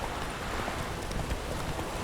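Roach, the horse in the Witcher 3 video game, trots along with steady, even clip-clop hoofbeats over a dense, constant background wash, with no talking.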